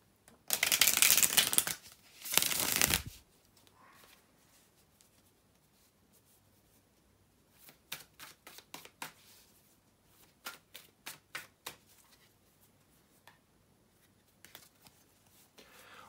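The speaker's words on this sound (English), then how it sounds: "bear with me a second, guys, to shuffle the tarot cards" Tarot cards are shuffled by hand in two loud riffles at the start, then a quiet pause, followed by a run of softer, evenly spaced card taps and flicks close by.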